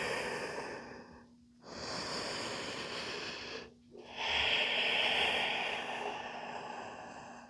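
A person breathes deeply and audibly during a yoga flow: long, close hissing inhales and exhales separated by two short pauses, with no talking.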